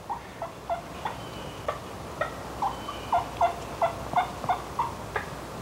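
A wild turkey gobbler outdoors calls in a series of short, throaty gobbles and clucks, moderately distant, repeating every half second or so over quiet ambient rustle.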